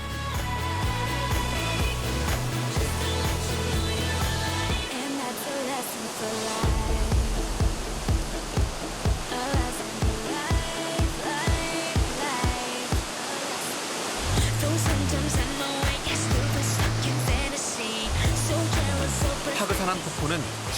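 Continuous rushing roar of Pagsanjan Falls, broad and steady, with music playing over it throughout.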